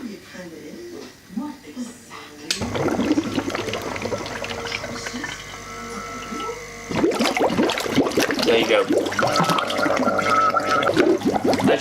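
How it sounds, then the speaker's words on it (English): A Hailea ACO 9810 water pump switches on and runs, water pouring and bubbling steadily into a sink and jug, louder after a few seconds, with someone speaking briefly. "I'll turn the pump on at the wall and we'll see how long it takes it to fill up"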